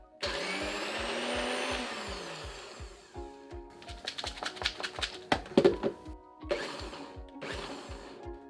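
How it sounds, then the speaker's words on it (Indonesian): A kitchen blender pulses basil leaves for pesto before any olive oil or lemon juice goes in, running in a long loud whir and then in several short bursts with rattling between them. "Jadi di sini saya hanya akan blender sedikit dulu tanpa olive oil, tanpa lemon juice,"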